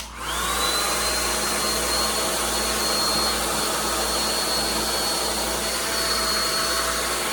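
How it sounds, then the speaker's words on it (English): A blow dryer runs continuously at full power, a loud, steady whooshing roar with a faint high whine and no pauses. "a regular hand blow dryer will work."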